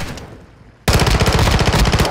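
Loud, close automatic gunfire in a military shooter bursts in abruptly after a brief lull and rattles on continuously in a fast, even rhythm.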